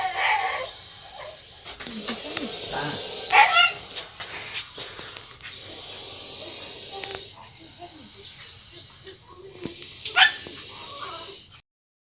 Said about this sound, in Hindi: जानवरों में सबसे वफादार 2 श्वान, पालतू 2 कुत्ते